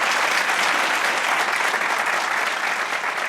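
A steady burst of clapping applause from a small group, dense and even throughout with no voices over it.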